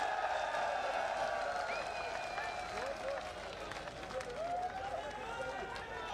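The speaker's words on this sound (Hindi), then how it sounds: "एक बार खड़े होकर के जोरदार तालियां बजा करके हनुमान जी बेनीवाल का स्वागत करें" A large crowd at a student youth rally in Jaipur applauds and cheers for Hanuman Beniwal, a dense continuous roar heard from a distance with voices calling out over it.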